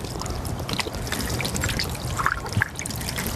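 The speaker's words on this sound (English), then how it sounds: "As you can see, the water just slid off the glass." Water trickles and runs off a Rain-X treated truck windshield, a continuous splashy pour with scattered drips and small spatters close by, steady in level and with no talk.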